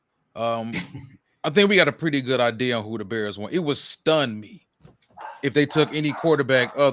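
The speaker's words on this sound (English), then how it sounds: "that's my dog barking and talking" A dog barks and yips in the background of a home setting, brief outbursts mostly buried under a man's steady, close talking about football.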